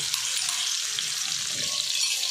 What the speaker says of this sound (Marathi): आता याच्यामध्ये अद्रक, लसूण आणि कोथिंबीर वाटून टाकलेली आहे।